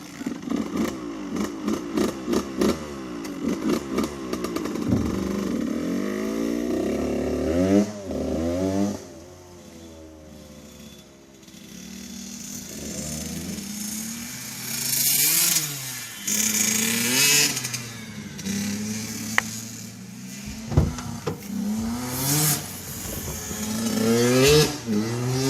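Two 85cc two-stroke dirt bikes, a Kawasaki KX 85 and a Suzuki RM 85, rev and rasp as they are ridden. Engine pitch rises and falls, at times fading into the distance and then roaring back close and loud.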